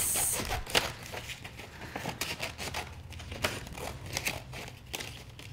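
Scissors snip through folded shelf paper being cut into a circle, a close, irregular run of crinkling rustles and crisp cuts with no voice over them.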